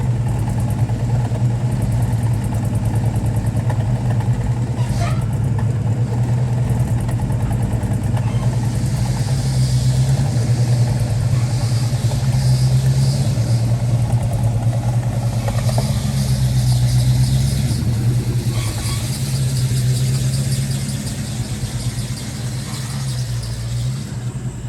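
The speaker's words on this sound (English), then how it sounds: "listen to those new Flowmasters as we let the Challenger stretch her legs" A Dodge Challenger with a new Flowmaster exhaust rumbles steadily at a high idle and drives along close by, its deep exhaust drone swelling slightly as it moves, with no talking over it.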